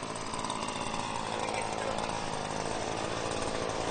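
An Echo 2520 backpack leaf blower roars continuously while clearing flower beds, a steady, loud motor drone with a rushing air hiss that never lets up.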